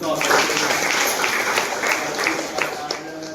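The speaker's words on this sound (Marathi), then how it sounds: "आपण वृद्धाश्रमाच्या वतीने सर्वजण टाळ्या वाजून" Audience at an old age home clapping, a sustained patter of applause mixed with voices talking over it.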